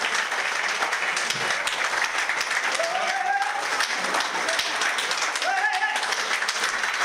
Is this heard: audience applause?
yes